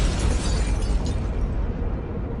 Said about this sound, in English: A thunderous explosion in the distance suddenly illuminated the world around him with a harsh orange blast